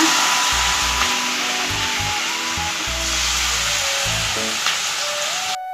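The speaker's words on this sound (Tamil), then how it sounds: "இப்போ இந்த இட்லி நம்ம எண்ணெயில் போட்டு நல்லா வறுத்து எடுத்துக்கலாங்க" Pieces of leftover idli fry in hot oil for idli manchurian, a constant loud bubbling sizzle right up close with faint tonal hum underneath, and no one talking.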